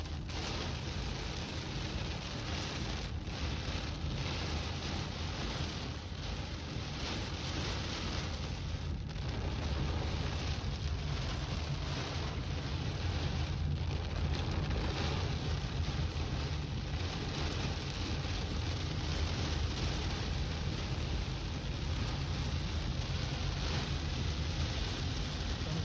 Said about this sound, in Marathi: तर याला आपण मुसळधार कॅटेगरीचा पाऊस आपण म्हणू शकतो